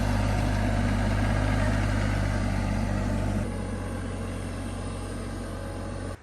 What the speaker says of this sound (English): I can hear him already coming down with the tractor to pick it up.